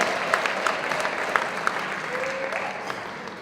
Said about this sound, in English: One more big round of applause for all the winners.